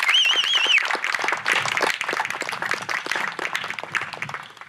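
An audience at a graduation grand march claps in a sustained round of applause that gradually thins and fades, with a brief whistle-like tone near the start.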